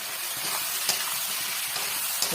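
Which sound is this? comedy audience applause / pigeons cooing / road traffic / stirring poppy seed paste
stirring poppy seed paste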